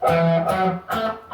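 Distorted electric guitar plays a short fragment of a riff, two chord stabs ringing out close and loud.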